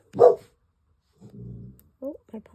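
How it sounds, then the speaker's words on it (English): A puppy indoors barks at the neighbors: one sharp, close bark, then a low rumbling growl and two quick yips. "My puppy dog hears the neighbors. She's deciding she's gonna make a big ruckus."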